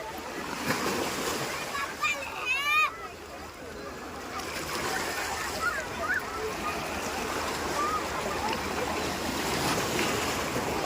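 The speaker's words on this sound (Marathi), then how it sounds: "पाण्याच्या लाटा बघा किती जोरात येतात." Strong sea waves surge and wash in a continuous rushing roar, with a few brief bird-like squeaks early on and people talking over it.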